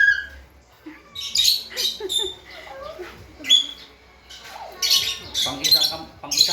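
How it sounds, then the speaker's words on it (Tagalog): Several pet birds squawk and screech in short bursts up close while being hand-fed from an open palm, with people talking over and between the calls. "Pang isang ibon lang kasi yung kamay ni Ed."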